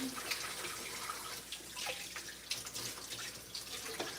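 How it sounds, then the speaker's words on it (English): Hands are washed under a running kitchen tap, a steady wash of flowing water with light splashing, moderately faint and close, without talk. "Let me wash my hands again."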